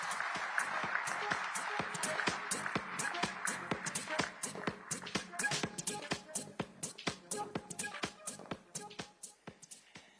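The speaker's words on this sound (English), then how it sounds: "Let's give him a warmer round of applause" An audience at a large conference hall applauds steadily, with crisp individual claps that start as a dense, sustained wash and thin into sparser claps toward the end.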